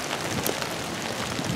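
Rain falls steadily outside an off-grid cabin, a dense and even patter that stays close and continuous for the short stretch.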